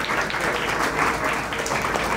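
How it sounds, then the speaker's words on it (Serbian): An audience at a business evening gathering claps steadily in dense, sustained applause that fills the whole span at a fairly loud level. "Aplauz za Bum Bum Radio."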